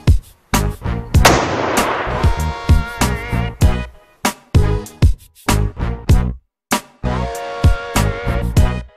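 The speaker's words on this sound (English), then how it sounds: "We've shot 6 different guns at the dome." Rifle and handgun shots fired at a dome structure during a penetration test, a rapid series of loud, sharp close-range cracks with short ringing decays and brief gaps between bursts.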